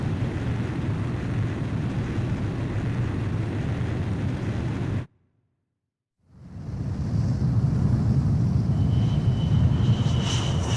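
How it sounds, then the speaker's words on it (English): A jet aircraft launches off a carrier catapult in the video game Ace Combat 5: a steady engine roar cuts out into a short silence, then returns as a broad rushing whoosh. "Aircraft launch confirmed. Catapult crew will now evacuate the ship."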